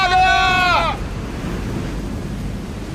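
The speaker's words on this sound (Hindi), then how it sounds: "समुद्री लहरें इतनी ऊपर उठकर हमारी तरफ आ रही हैं। लहरें बहुत तेज हैं।" Animated stormy sea with high waves crashing toward shore: a thick, steady roar of surf and wind fills the whole clip, opening with a brief wavering tonal wail that fades after the first second.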